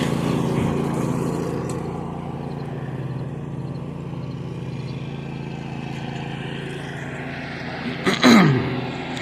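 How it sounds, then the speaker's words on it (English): A Husqvarna zero-turn riding mower's engine drones steadily and loudly throughout while cutting a lawn, with a brief rise and sharper whine near the end. "So that is the Husqvarna zero-turn lawnmower in action."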